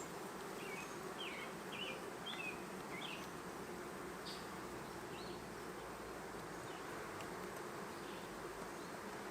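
Honey bees buzz around an open hive whose frames hold honey, eggs and pollen: a dense, steady swarm drone close by that never lets up, with no voices.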